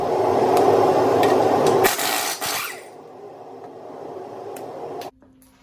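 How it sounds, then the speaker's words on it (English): A new pneumatic air hammer, used for a Subaru wheel bearing job, rattles loudly and continuously in a fast buzzing burst, then drops off to quieter shop noise before stopping. "Got a new air hammer"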